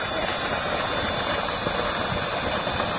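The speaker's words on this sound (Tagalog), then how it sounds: "paandarin po yung solar pump" A solar-powered water pump runs in a farm field, giving a steady, continuous mechanical hum with broadband noise at an even level throughout.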